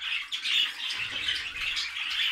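Budgerigars in a breeding cage chatter with continuous bright chirps and rough squawks, close and fairly loud, overlapping without pause.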